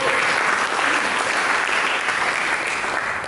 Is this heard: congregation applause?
yes